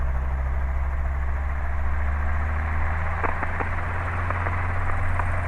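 Robinson R22 helicopter piston engine running steadily near, a loud low drone and rotor hum with a slight pitch rise as the revs are raised, a few brief clicks midway, no talking.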